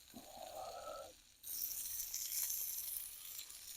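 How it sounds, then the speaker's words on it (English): Onions tipped into a hot pan over a campfire begin to sizzle, a bright steady frying hiss that starts abruptly partway through and carries on close and fairly loud, no talking. "let's pop in our onions"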